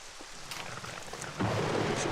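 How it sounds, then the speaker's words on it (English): Thunder rumbles in the survival game SCUM amid rain, a low distant roll building into a louder, heavier burst of storm noise with rain hissing on surfaces. "Thunder."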